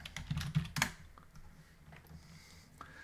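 Quick bursts of typing on a computer keyboard while solving a crossword: a cluster of close, light key clicks early on, then sparse, fainter taps. No one speaks.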